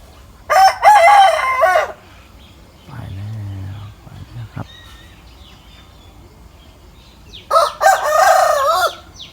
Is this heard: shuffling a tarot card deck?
no